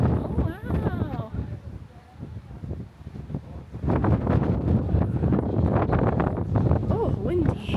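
Strong wind in the Scottish Highlands buffeting the microphone with a loud, continuous rumbling roar, growing heavier midway, while someone speaks briefly over it.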